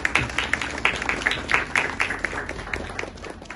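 Applause at a joint Christian and Muslim prayer service honouring fallen Ukrainian soldiers, with scattered individual claps rising and falling in uneven bursts, fairly near and moderately loud, with a faint voice under it.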